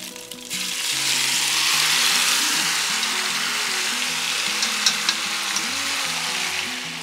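Beef pieces sizzle loudly and steadily in a hot pan for Vietnamese beef stew noodles, a constant crackling hiss with small pops, while a soft stepped melody plays faintly underneath.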